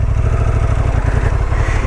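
A Honda XL750 Transalp motorcycle rides on grass with a loud, close, steady engine drone and a rhythmic low throb throughout.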